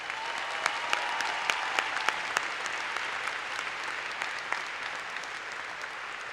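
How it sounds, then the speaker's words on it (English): Commencement crowd applauding students at Cal Poly's fall 2014 ceremony, a dense, even roar of many hands with sharper individual claps popping out, heard alone without talk. "How about one more round of applause for our very talented students?"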